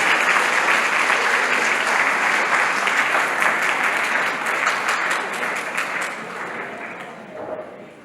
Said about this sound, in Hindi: मैं चाहता हूं उनके लिए जोरदार ताली हो जाए, अपने पेरेंट्स के लिए, अपने टीचर्स के लिए।